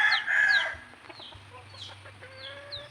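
A purebred red jungle fowl rooster clucks loudly up close, then gives short crowing calls over a steady low background hum, with no voices present.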